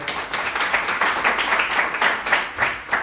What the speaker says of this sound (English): Can we just give a round of applause to them?